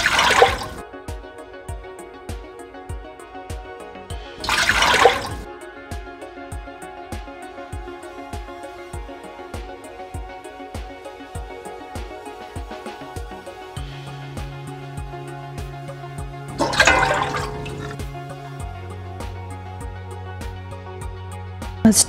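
Water is poured into a pot to make cornmeal mush, with short bursts of splashing pouring separated by long stretches of faint dripping and a steady background hum, all without talk.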